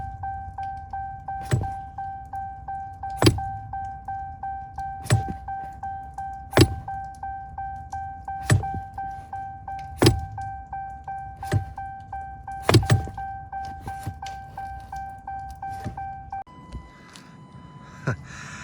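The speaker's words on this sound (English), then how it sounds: "It's amazing how loud this throttle body is." A 2019-or-later Ram 1500 sits with its throttle pedal held floored, giving a steady electronic tone broken by regular loud clunks about every two seconds, close by and with no talking, before the tone changes near the end.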